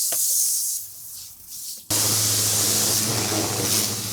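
Alkaline wheel cleaner is sprayed onto a dirty car rim in bursts of loud hissing spray. Two short bursts come first, then a longer continuous spray over a low steady hum.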